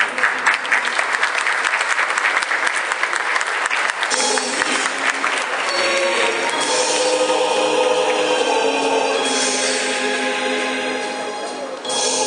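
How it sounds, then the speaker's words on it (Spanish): An audience at a public forum on public investment and state procurement applauds continuously, a dense, sustained clapping that changes texture partway through and fades slightly at the end. "Un fuerte aplauso para nuestros expositores."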